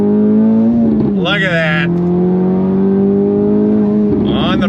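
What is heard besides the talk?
DE5 Acura Integra Type S accelerating at full throttle in second gear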